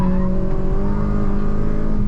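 A Mitsubishi Evo Tommi Makinen engine holds a steady, loud, close drone during heel-toe rev matching, a continuous hum with no talking over it.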